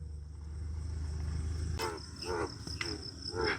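Frogs croak at night in the rainy season beside a paddy field, a few spaced, ringing calls heard over a steady insect drone, with a low rumble fading out early on.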